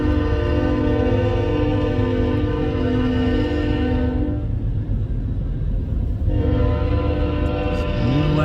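A CN freight train with Dash 9 locomotives passing at Ladysmith, Wisconsin, its horn blaring loud and sustained over a heavy rumble, pausing briefly in the middle before sounding again.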